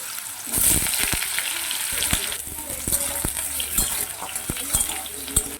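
Potatoes fry in hot white oil seasoned with cardamom and cinnamon, a steady sizzle broken by sharp clinks and scrapes of a utensil stirring the pan.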